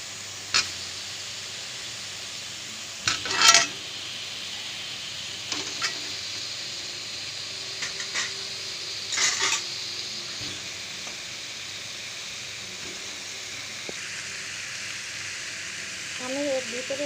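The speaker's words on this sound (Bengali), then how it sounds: "এখন এর ভিতরে আলু আর ডিমটাকে দিয়ে দেবো" Potatoes and boiled eggs dropped into sizzling masala in a kadai for egg biryani, a continuous close frying hiss broken by brief bursts of clatter and stirring.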